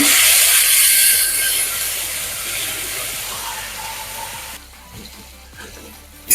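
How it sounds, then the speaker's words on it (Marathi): Green chillies, ginger and curry leaves sautéing in a pan give a steady close hiss and sizzle with faint clinks, loudest at the start and easing off, then quieting near the end. "मिरचीचा आणि आल्याचा कच्चापणा जाईपर्यंत हे परतून घ्यायचंय"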